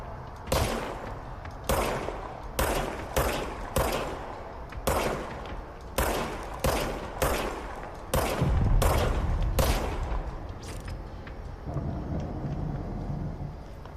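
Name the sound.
gunfire from a gun in the video game Control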